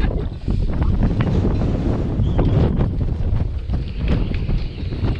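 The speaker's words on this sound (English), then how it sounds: "it's flipping windy out there today." Strong gusty wind roars steadily across a boatyard on a sunny day, buffeting the microphone with deep rumbling noise throughout.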